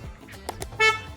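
A Hyundai Venue horn gives a short, sharp chirp up close after a couple of faint clicks, a brief bright honk standing alone.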